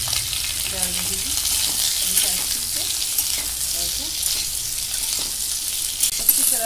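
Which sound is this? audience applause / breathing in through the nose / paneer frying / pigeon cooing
paneer frying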